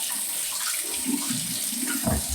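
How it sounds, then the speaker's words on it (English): Cold tap water runs steadily into a sink while a Merkur 34c safety razor is rinsed, a close, hissing splash with a few heavier gurgling bursts near the end. "Rinsing the razor."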